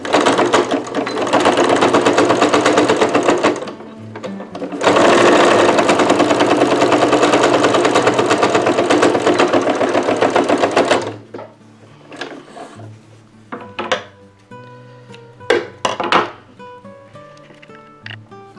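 A sewing machine stitches a casing on a fabric nurse cap, running loud and steady for about eleven seconds with a short pause near four seconds, then giving way to quieter handling clicks and knocks.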